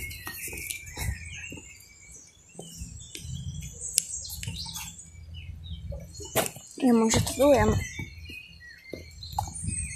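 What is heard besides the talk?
bird chirping in a park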